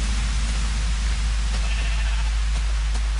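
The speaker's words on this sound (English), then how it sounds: "We got sheep around." Sheep in the video game Minecraft, gray and white, bleat with short wavering calls over a steady low hum of background noise, fairly faint and sparse.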